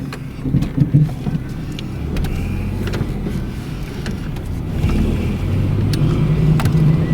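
A 1992 Dodge Daytona IROC R/T pulls away from inside the cabin, a steady low engine and road rumble with a few light clicks and thumps, growing slightly louder toward the end, with no talk.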